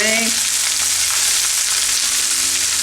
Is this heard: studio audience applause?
no